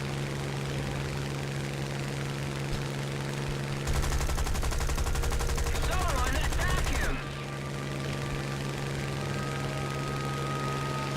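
Aircraft guns firing during air combat in War Thunder from a P-400 fighter, one sustained rapid-fire burst lasting a few seconds over a steady droning engine hum that continues before and after.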